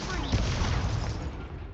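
A fiery Incendio spell cast in Hogwarts Legacy, a broad whooshing burst of flame lasting under two seconds, loud and close, fading at the end.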